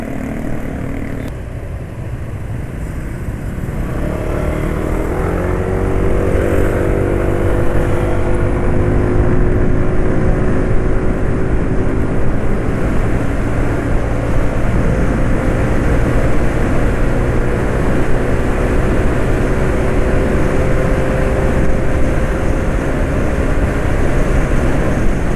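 A motorcycle engine running on Petro Canada Duron HP 15W-40 oil, rough at low RPM, revs up into a loud, sustained drone that holds for over twenty seconds, heard close and alone.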